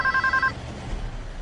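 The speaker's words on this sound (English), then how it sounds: "In the meantime, phones were also ringing at American Airlines." A telephone rings at an American Airlines office in a quick trill of repeated electronic pulses, then cuts off, leaving a low background hum.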